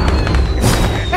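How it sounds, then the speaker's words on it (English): Fireworks in the video game Dark Deception, a continuous crackling, booming barrage of bursts that stays loud throughout, with faint game sounds underneath. "Oh, I love the fireworks."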